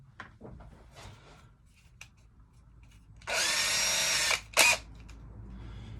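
A power drill with a 4 mm bit whirs loudly for about a second through a helmet shell and styrofoam, stops, then gives a short second burst, with faint clicks and handling noises before it.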